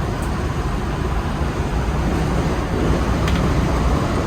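A 1980 International Scout II cruises down the road at 55 mph, heard from inside as a steady, loud broadband rumble of road and wind noise with no talking.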